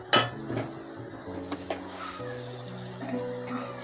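Metal utensil clinks and scrapes in a pan while taro greens (kochur shak) with pumpkin flower paste and chickpeas are stirred, a few sharp knocks over a steady low hum, with no talking.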